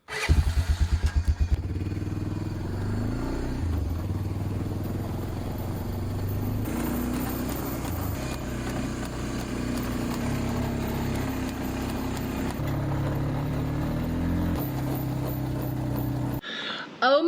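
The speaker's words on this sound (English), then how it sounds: "All right, made it back to the four-wheeler. Got a trailer full of stuff." A four-wheeler ATV towing a loaded trailer grinds uphill off-grid, its engine droning steadily and close with rough clattering changes in pitch, sputtering briefly at the start and cutting off abruptly near the end.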